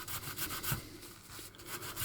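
A wet wipe is rubbed back and forth over a surface in steady, close swishing strokes, soft and continuous.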